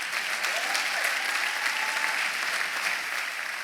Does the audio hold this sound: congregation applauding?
yes